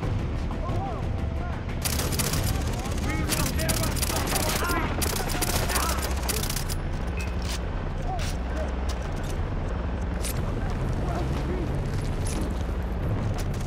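Dense, continuous gunfire in Far Cry 3, aimed at a helicopter pilot, with rapid bursts and heavy booms under a loud, busy battle din, while a voice talks over it.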